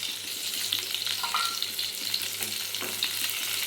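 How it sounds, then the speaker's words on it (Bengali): Pointed gourd (potol) fries gently in a pan with a steady, close sizzle and crackle over a faint low hum. "পটলটা বেশি কড়া করে ভাজা করব না, হালকাভাবে"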